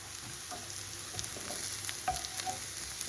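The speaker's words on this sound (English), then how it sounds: "I'm just going to saute this on a medium hot heat for about a minute or 2" Onions sauteing in grapeseed oil in a pan over medium-high heat give a steady soft sizzle, with occasional light scrapes and clicks of stirring throughout.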